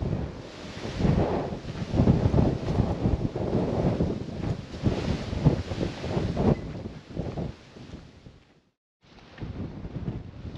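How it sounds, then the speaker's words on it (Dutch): Strong wind over the Patagonian pampas buffeting the microphone in loud, gusty rushes, briefly dropping out near the end before roaring back. "De wind giert hier"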